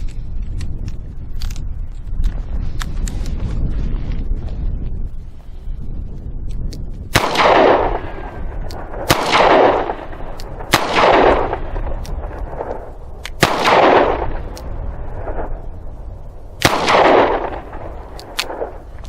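A Charter Arms Bulldog .44 Special revolver fires five loud, sharp shots at uneven intervals, each echoing with a booming tail. The first several seconds hold only low rumbling handling noise.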